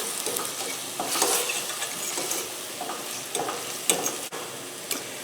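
A spoon scrapes and stirs Trader Joe's umami mushroom mix into ground bison in a hot pan, with an irregular rhythm of strokes over a steady sizzle.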